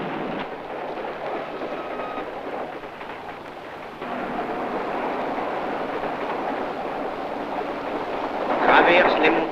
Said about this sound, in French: Elle roule sur les rails de fer, dérobé lui-même au sol.